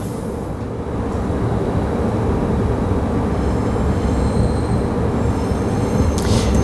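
A Perth B-series electric train runs on the Thornlie-Cockburn line near Cannington station, giving a steady, loud rolling rumble with a faint high whine and a brief rise of wheel noise near the end, with no voices.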